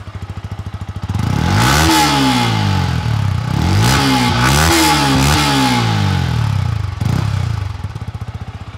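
Close Yamaha R15 motorcycle engine rising from idle into several loud revs, the pitch sweeping up and down repeatedly before settling back to a steady idle.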